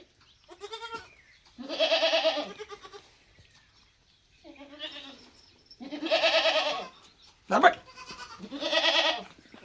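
Goat kids bleat in three separate bouts of wavering calls, close and fairly loud, with a brief sharp noise between the last two.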